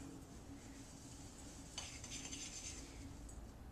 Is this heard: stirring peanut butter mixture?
yes